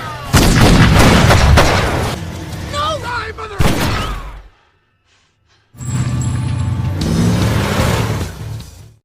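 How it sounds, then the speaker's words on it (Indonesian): Loud bursts of gunfire and booming blasts mixed with engine noise and talk, then a brief silence before another dense stretch of action sounds. "kembali terjadi adegan tembak-tembakan di mana Milton terserempet peluru di bagian"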